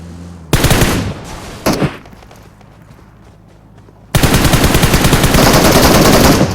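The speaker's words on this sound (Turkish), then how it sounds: "Nova'dan fişek attılar ha" Video-game gunfire shot from a house, loud rapid automatic bursts: a burst near the start, a short second burst, a quieter pause, then a long sustained stream of fire to the end.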